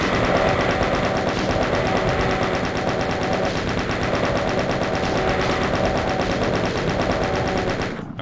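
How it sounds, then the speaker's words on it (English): Rapid, unbroken chain gun fire from Doom II runs loud and steady for about eight seconds, its mechanical rattle dense and continuous, then cuts off abruptly at the very end. "I'm going to switch to our chain gun here"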